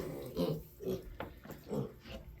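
Young pigs in a pen grunt and oink in a soft, low series of short snorting bursts, several in quick succession, fairly quiet and close.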